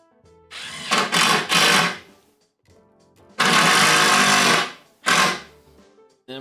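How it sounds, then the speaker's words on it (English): Cordless drill driving a single screw into cedar trim on a raised garden bed, heard as three close, loud bursts of whirring motor separated by short pauses, with no talking. "Then I'm going to drill in one screw."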